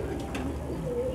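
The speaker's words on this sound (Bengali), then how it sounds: "এটা সিলভার চোখের কবুতর" A silver-eyed pigeon at a Bangladeshi pigeon shop gives a brief, low, soft coo lasting about a second, heard close amid faint background murmur.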